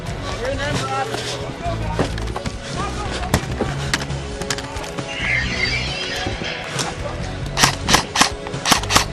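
Airsoft guns fire during an outdoor zombie-themed event, with scattered sharp pops and a quick run of loud close shots near the end, mixed with movement and background noise.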